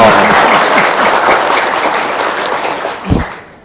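An audience breaks into loud, dense applause that holds steady for about three seconds, then quickly dies away, with a brief thump near the end.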